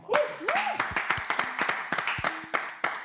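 Applause for champion Nimoto Kilala, a run of sharp separate claps in an irregular rhythm, close and fairly loud, with a brief voice or tonal sound woven between the claps.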